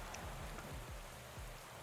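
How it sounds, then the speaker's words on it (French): Steady rain in Pro Cycling Manager 2020 during a world championship road race finale in Great Britain, a dense, even hiss of drops on the surface with no voices over it. "Et bah il pleut, c'était sûr."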